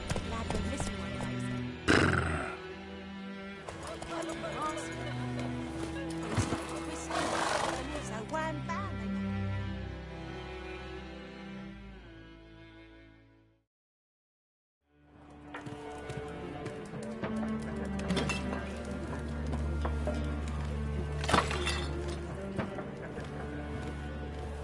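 Roach, a horse in a video game, heard through steady game music as hoofbeats and faint horse noises, with a brief silent break midway.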